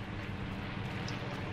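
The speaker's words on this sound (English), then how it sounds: "I just hear a plane." Airplane drone in Fortnite, a steady low engine rumble filling the background with a broad, even hum and no clear approach or fade.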